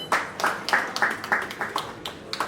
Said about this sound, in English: So another round of applause for yourself.